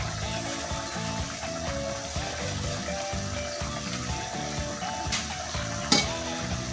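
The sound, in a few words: stirring fish sarciado in a pan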